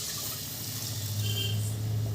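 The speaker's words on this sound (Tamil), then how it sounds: "பாருங்கள் புளி கரைச்சி வச்சுருக்கிறேன். அது இதிலே ஊற்றிக்கலாம்." Tamarind water poured into a simmering Sankara fish curry, giving a steady close splashing pour that runs throughout and strengthens toward the end.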